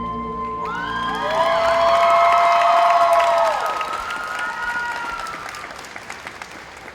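A convention audience at Colossalcon cheers the cosplay circuit finalists, with loud, sweeping whoops and yells swelling over scattered clapping, then easing off as the clapping thins out.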